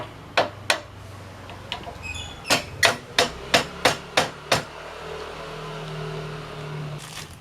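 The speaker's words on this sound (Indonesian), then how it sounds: "Obeng minus sama diketok biar kenceng." A hammer strikes a flathead screwdriver during a bicycle headset service: two sharp taps, a pause, then a steady run of about seven loud metallic blows, close and ringing, followed by quieter background noise.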